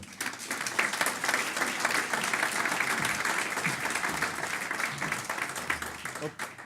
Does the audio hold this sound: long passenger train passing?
no